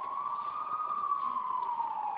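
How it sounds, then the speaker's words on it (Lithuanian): A toy ambulance siren in a Littlest Pet Shop play scene holds one steady, fairly faint wailing tone that dips slightly in pitch near the end, with no talking over it. "Jo, kodėl čia greitoji?"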